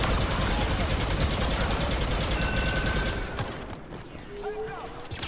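Rapid bursts of automatic gunfire crackle through a Star Wars shooter battle, loud and sustained for a few seconds before thinning into scattered shots and laser-like whines.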